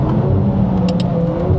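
A race car engine on the Nordschleife, loud and close, pulling hard on the throttle with a dense, steady roar and a couple of brief sharp high-pitched bursts.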